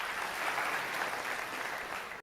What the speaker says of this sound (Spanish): ¿Escucharon los aplausos?